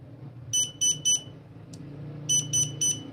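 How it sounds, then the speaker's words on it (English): Growatt SPF 5000TL HVM inverter sounding a warning: two sets of three sharp, high electronic beeps, evenly spaced, close and loud over a low hum. "as you can hearing the beep sound, but this is not the fault, this is the warning sound."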